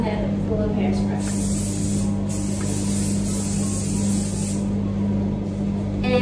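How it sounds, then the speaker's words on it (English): Hairspray hisses in a long continuous spray over a head of hair after a bun is done, loud and close, steady throughout with a low background hum. "so now to finish it off, I just spray my whole head full of hairspray"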